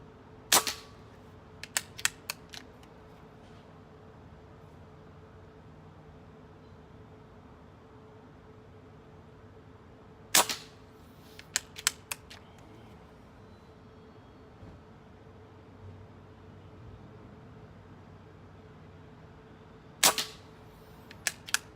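An air rifle fires .22 pellets, Crossman Premier and JSB Match Diabolo, as three sharp cracks about ten seconds apart, each followed by a few faint clicks, over a quiet hum outdoors.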